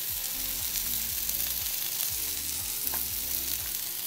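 A chicken wrap sizzles steadily in a hot pan as it is flipped, with a continuous loud frying hiss and faint scraping underneath.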